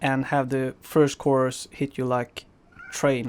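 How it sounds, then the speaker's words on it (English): A cat screaming loudly in a series of drawn-out, wavering meows and yowls, several overlapping cries in quick succession, with a person talking over them. "that's my cat screaming in the background"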